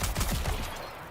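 A rapid burst of video game gunfire, loud and dense, rattling off in quick succession before trailing away.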